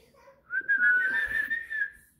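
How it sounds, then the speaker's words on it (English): A person whistles a single sustained, slightly wavering note for about a second and a half, close and clear with little background. "Yep, I can whistle."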